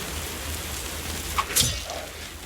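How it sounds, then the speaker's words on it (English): Heavy rain in the survival game Cataclysm: Dark Days Ahead makes a steady, low hiss that runs unbroken through the clip, with a couple of brief sharper noises near the middle. "it's just the rain is very, very loud"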